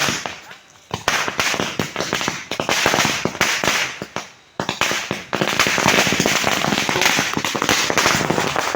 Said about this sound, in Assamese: ফাইনেলি বম ফুটাই দিয়া হৈ গ'ল